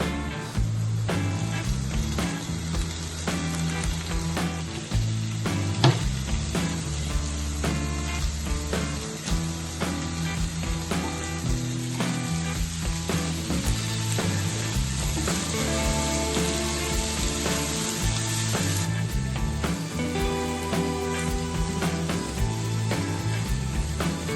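Tomatoes and curry leaves tossed into a hot pan, loud continuous sizzling and frying with stirring scrapes throughout, close by.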